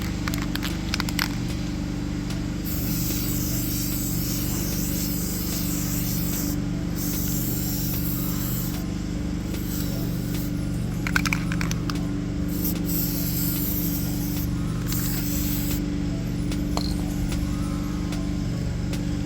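Black paint sprayed from an aerosol can onto truck parts for a 1998 OBS truck, a loud, close hiss running nearly nonstop with a few brief pauses and rattles between passes.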